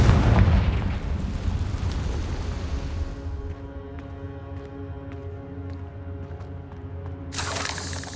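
A Confringo fire spell bursts in the Hogwarts Legacy video game, a loud booming blast that rolls off into a long rumbling, ringing decay, with a sharp crackling flare near the end.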